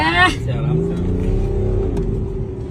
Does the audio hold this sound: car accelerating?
yes